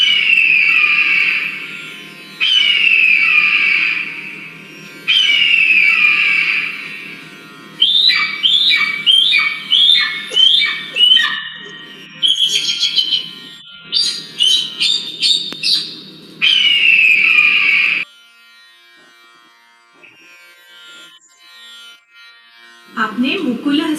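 Bird calls for a shadow-puppet bird come in bursts: long whistled squawks and quick chirping trills, loud and close over a low steady hum, then a pause and a final squawk.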